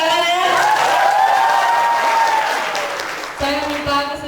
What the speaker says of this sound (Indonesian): Boleh tepuk tangan ya?